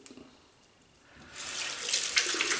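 Tap water gushes steadily from a faucet into a sink while rinsing after a shave; the flow starts abruptly about halfway through and runs loud and close to the end, with no talking.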